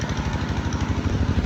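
A motorbike engine idling or running steadily at close range, a low rapid chugging throb that continues without a break.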